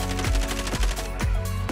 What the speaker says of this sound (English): Oh, I'm being shot to the left.